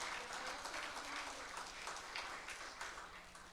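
A church congregation applauds during a sermon, producing a continuous, fairly loud wash of many hands clapping that holds steady for several seconds, with no talking on top.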